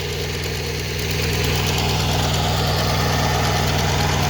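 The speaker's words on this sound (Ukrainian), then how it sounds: "Трактор" Loud, steady diesel tractor engine idling nearby with a rhythmic knocking chug throughout, no voices.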